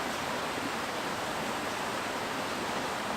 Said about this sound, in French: Le petit bruit de cascade.